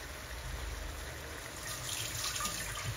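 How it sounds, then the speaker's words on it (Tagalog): A little water runs into an empty oyster sauce bottle to rinse it, making a soft, continuous trickle and gurgle that grows slightly fuller toward the end. "Naglalagay ng konting tubig para mabanlawan sa loob."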